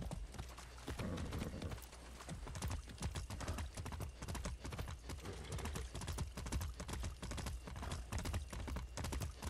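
Horse galloping in Far Cry 6, rapid continuous hoofbeats thudding in a steady rhythm throughout, fairly quiet and close.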